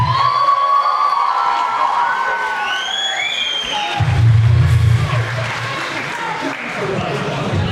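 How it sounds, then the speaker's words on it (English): Crowd at an IZW wrestling event cheering and clapping for a woman wrestler, a steady roar of applause with whoops and high shouts, rising louder partway through and continuing under a voice on a microphone. "please, round of applause for Miranda."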